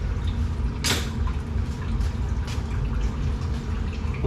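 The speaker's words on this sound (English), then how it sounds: "when the radiator finishes draining. You can still hear it, it's still going." Coolant drains from the radiator of a 1997 Mercedes S500 W140, a steady liquid trickle and patter with a couple of brief louder splashes, close by and without speech.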